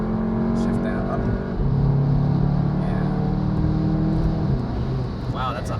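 A modified Volkswagen GTI pulls hard through its gears, a loud steady engine drone rising in pitch with a shift partway through, heard from inside the car.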